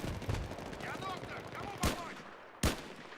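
Gunfire in the video game Battlefield 3: a couple of sharp, loud shots stand out over busy in-game battle noise and a lower voice murmur.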